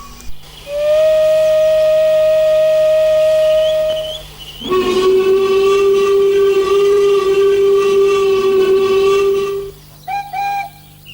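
Steam locomotive whistles blow loud and close at a station platform, one long steady blast followed by a second, richer and longer whistle, then a brief shorter toot at the end.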